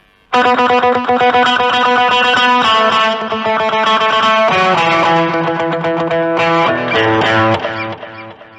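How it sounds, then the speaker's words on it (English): An electric guitar through a Vox VX15GT modeling amp with tape echo plays a run of crisp, low-gain notes and chords with a faint repeating trail, starting sharply and fading at the end. "And with tape echo."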